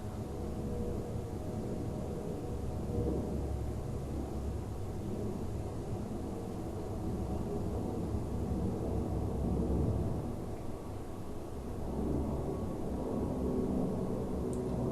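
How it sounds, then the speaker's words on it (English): Airplane engine noise fills the cabin as a steady, muffled low roar throughout, with no speech over it. "The plane makes it sound like I'm going underwater."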